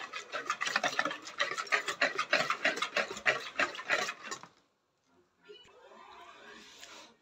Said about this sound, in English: we mix until the sugar dissolves